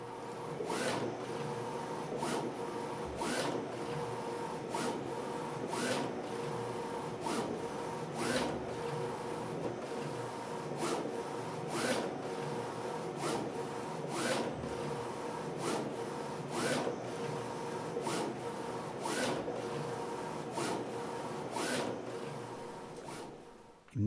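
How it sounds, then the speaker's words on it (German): A printing system outputs a sheet for sticker contour cutting, producing a steady mechanical whir with regular sharp clicks and rubbing passes repeating throughout, moderately close, with no voices. "Geben Sie jetzt den Bogen auf Ihrem Drucksystem aus."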